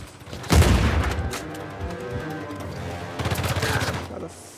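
Shotgun fire in Uncharted 4: A Thief's End, a heavy blast up front followed by more bursts of gunfire later, loud and close, with someone talking over parts of it.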